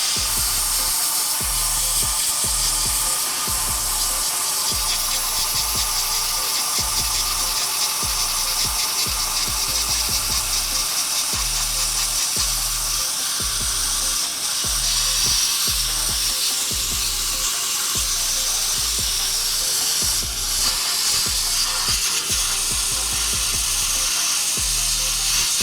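Dry ice blasting cleaning grease off a car subframe, a loud continuous hissing roar with a steady rapid low thumping pulse underneath, running without a break.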